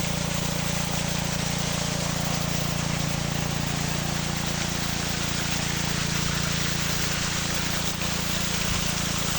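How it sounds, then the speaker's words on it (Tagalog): A 7-horsepower engine drives a water pump on a vegetable farm, producing a loud, unbroken mechanical drone that holds steady throughout. "Water pump galing sa baba."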